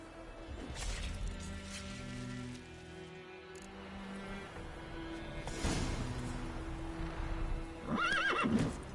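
A horse in The Witcher 3 clip-clops along steadily for several seconds, then gives a loud, close neigh near the end over faint game ambience.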